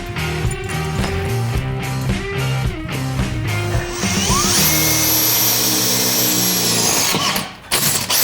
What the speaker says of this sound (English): We're going to drill a hole in the roll cage right here.